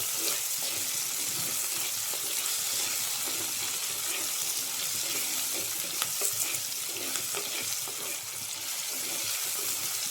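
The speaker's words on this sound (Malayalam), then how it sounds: "ഇത്രയിട്ട് നന്നായിട്ട് ഈ ഉള്ളി ഒന്ന് മൂക്കുന്നവരെ ഒന്ന് ഇളക്കുക." Onions frying with a sprig of neem in a pan for a meat roast, giving a steady, close hiss of sizzling oil with occasional soft stirring clicks throughout.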